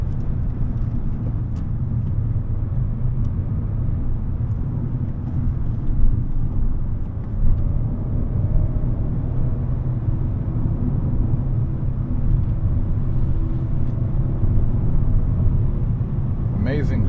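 Low, steady engine drone and road rumble from inside a 2012 Volkswagen Golf with a 2.5L five-cylinder engine and five-speed gearbox cruising along, continuous and moderately loud.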